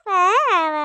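A young girl lets out one loud, sustained, high-pitched yell at close range. The shout rises briefly in pitch and then levels off before cutting out.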